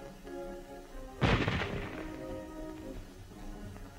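A Japanese M99 rifle fired once during World War II small-arms testing, a single sharp report with a rumbling tail fading over about a second, heard alone against low background hum.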